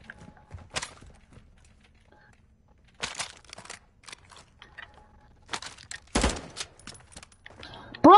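Gunfire from a gun called the Bass P in the video game Warzone 2.0, sharp isolated shots and short bursts scattered across the clip over quiet game ambience, with a louder burst near the end.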